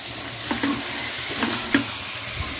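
Spiced duck meat sizzles steadily in a hot pan while a utensil scrapes and stirs in a few distinct strokes, close up with no talking.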